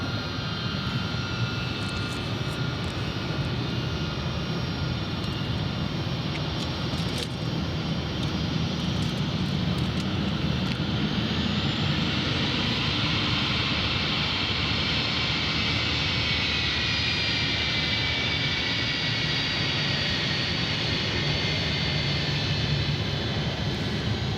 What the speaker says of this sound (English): our Delta is taxiing out